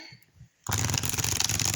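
Black and white Rider-Waite tarot cards being shuffled: a few soft taps, a brief pause, then a loud, fast riffle of cards fluttering together, close up.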